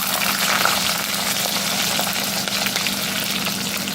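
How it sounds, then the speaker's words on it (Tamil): Sliced onion and green chilies frying in hot oil with spices for a crab curry, giving a continuous dense sizzle that stays loud and even throughout, with no talking. "இந்த ஒரு பெரிய வெங்காயமும் ரெண்டு பச்சை மிளகாயம் வச்சுருக்கேன் இல்லையா அதை போட்டு"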